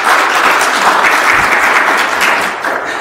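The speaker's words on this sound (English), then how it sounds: "Can we have a big round of applause for Satish, please?" Workshop attendees give a loud, close round of applause for a guest speaker, dense uninterrupted clapping that holds steady before easing off at the close.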